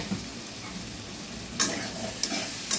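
Vinegar, sauce and chili-marinated soya chaap sautéing quietly in a pan, a soft low sizzle broken by a few sharp scrapes and clinks of a spatula.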